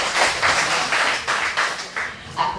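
Brief round of scattered clapping from a small group, uneven and moderately loud, lasting a couple of seconds.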